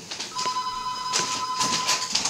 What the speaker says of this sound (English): I think that's the phone.